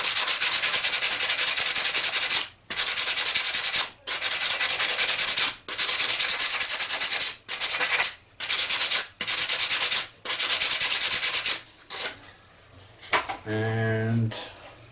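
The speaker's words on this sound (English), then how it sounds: "simply sand it along the edge" Cyano glue being sanded along the edge of a model plane during a crash repair, a loud continuous rubbing rasp in repeated strokes broken by short pauses, ending with brief speech.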